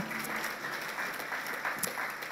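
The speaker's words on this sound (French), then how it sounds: "Oh, merci pour vos applaudissements." A church congregation applauding steadily for a couple of seconds, a dense, even patter of clapping with no voices over it.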